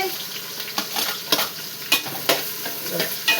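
Onions tossed into a hot pan for a tamarind-leaf chicken curry and stirred, a close, steady sizzle broken by repeated scraping strokes of the spoon, no talking.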